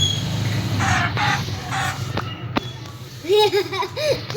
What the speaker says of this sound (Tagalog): Bakit may manok?